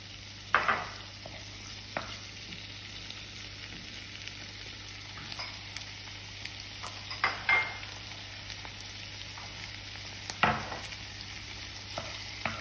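Egg cooks in a hot wok for king prawn fried rice, a faint steady sizzle with occasional spatula taps and scrapes against the metal.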